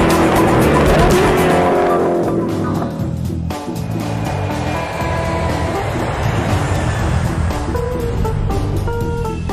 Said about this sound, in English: drive their Agera R to the limit on the racetrack and on their own private runway